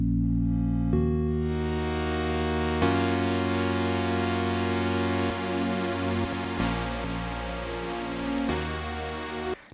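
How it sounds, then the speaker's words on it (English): Sustained synth chords from the stock Ableton Wavetable synth, changing every couple of seconds with a deep bass layer underneath, steady and full throughout with no voices. "Okay, so he's using the stock Ableton Wavetable synth."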